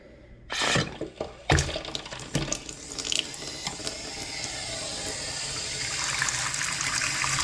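Water from a faucet runs and flushes through a newly installed whole-house water filter, opening with a few sharp mechanical clicks and clunks of the valve, then settling into a steady rushing hiss that gradually grows.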